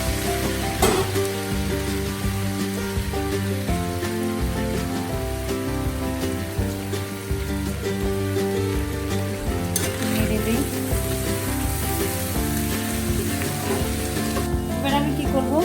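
Potatoes frying for Bengali aloo bhaji, a steady loud sizzle over a layered background with tonal sounds, continuous throughout with occasional brighter bursts.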